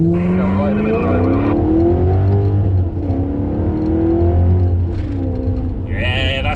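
A Maserati with a Ferrari V8 engine driven hard, loud and close, revving up through gears with rising and falling engine notes and brief tire noise, while people talk over it.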